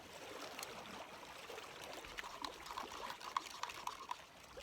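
Cold MRE coffee being stirred outdoors: faint liquid swishing and trickling with a few light clinks, quiet and close over soft background noise.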